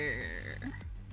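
A frog croaks in the video game Mining Mechs, a near, loud throaty call that sustains for about a second before fading.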